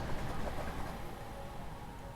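A train running in the voxel-style tycoon building game Voxel Tycoon, a low steady rumble with a faint rolling drone, continuous and moderately quiet.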